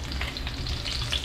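Meat sizzles steadily in a pan as it fries to golden brown for binagoongan begukan, a continuous close crackle and hiss without pause.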